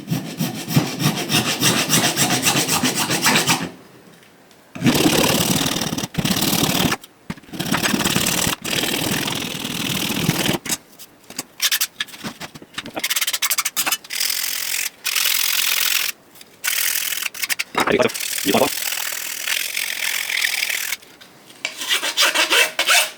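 A file rasps across high impact polystyrene to put a chamfer on the edge: loud, repeated scraping strokes in uneven bursts with brief pauses between them, continuing for over twenty seconds.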